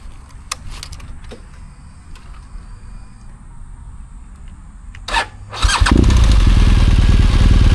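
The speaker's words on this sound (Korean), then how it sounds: "시동을 한번 켜볼게요." BMW R1200GSA adventure motorcycle on a countryside road stop: after quiet outdoor ambience and a few clicks, the starter whirs briefly and the boxer engine catches, settling into a loud, steady close idle.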